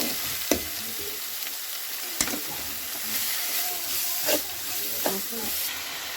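Four onions sautéing with a pinch of salt in a pan for a Kerala beef-leg and tapioca dish, a steady close sizzle of frying with a few sharp clatters of stirring.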